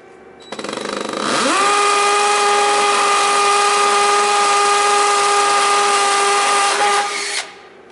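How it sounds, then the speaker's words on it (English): A power drill spins up with a rising whine and bores a hole, holding a loud, steady high-pitched buzz for several seconds before winding down, with no talking. "I'm gonna drill the hole."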